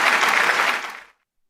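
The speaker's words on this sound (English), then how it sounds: "Give us a little applause, James." Short burst of applause and a whoop during a live stock and options trading stream, loud and close, then cutting off abruptly after about a second.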